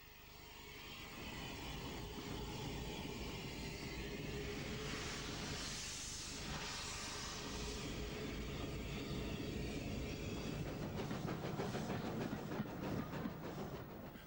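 A train runs on the Southern main line in steam days, a steady loud rumble with rhythmic clicking of wheels over rail joints that thickens toward the end, heard close and without talk.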